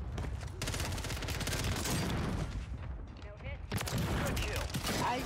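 Gunfire in Call of Duty on Rebirth Island, including a sniper shot, heard as a dense stretch of sharp cracks and booms with a player's voice mixed in.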